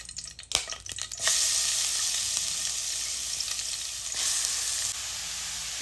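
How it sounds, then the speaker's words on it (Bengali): Grated carrot hitting hot melted ghee with a bay leaf, a few bumps and a clatter at first, then a loud, steady close sizzle that holds and swells briefly near the end. "আর গ্রেট করে রাখা আমি গাজরটিকে এর ভিতর এখন ছেড়ে দিচ্ছি।"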